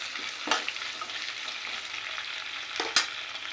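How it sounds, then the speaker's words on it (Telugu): Crushed garlic frying in a pan for a capsicum fry, a steady close sizzle with a couple of sharp scrape-like stirring bursts, no voices. "అందులో అవి కూడా కొంచెం ఫ్రై అయ్యే అవ్వాలి ఇలా వేసుకుని ఇలా మిక్స్ చేసుకోవాలి"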